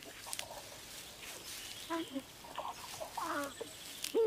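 Crows calling around their nest in the wild: scattered short caws and croaks, moderately near, over a quiet outdoor background, with a few louder calls near the end.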